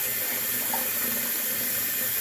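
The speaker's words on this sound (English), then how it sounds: "I'm filling up my sink full of hot water" A bathroom sink being filled with hot water from the tap, a steady close rushing hiss of running water that continues without a break.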